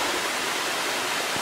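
A waterfall with a methane-fed flame burning behind it sends out a steady, close, loud rushing roar of falling water, continuous and unbroken with no voices.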